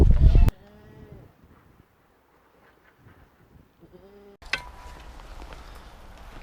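Goats bleating on a farm: a few wavering, bleating calls in a quiet middle stretch, framed by louder bursts of nearby handling noise and rustling.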